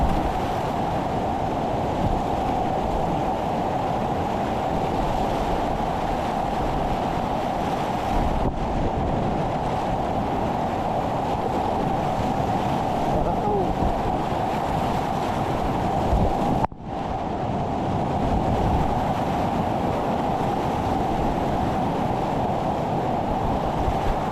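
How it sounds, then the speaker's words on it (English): River rapids on the Upper Rustic section of the Poudre River in Colorado, heard while kayaking: a continuous loud rush of whitewater with wind buffeting the microphone, steady throughout and without talk. "The rapids are pretty continuous on this run, surprisingly."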